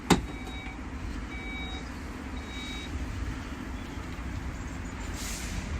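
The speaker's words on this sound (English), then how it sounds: "one last feature to this vehicle is the electronic tailgate" Electronic tailgate on a Skoda Kodiaq 2.0 TSI 190ps 4X4 Sportline SUV powering open: a steady, close motor whir with a few short, thin beeps scattered through it, and no talking.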